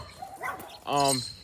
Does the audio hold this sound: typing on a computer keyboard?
no